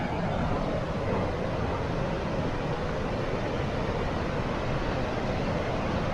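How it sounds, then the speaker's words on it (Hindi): Gullfoss, a large waterfall in Iceland, gives a steady distant wash of falling water that stays even and fairly faint throughout, with no voices. "देखिए एक तो वाटरफॉल है वो ऊपर वाली, और उसके बाद एक नीचे वाली वाटरफॉल है।"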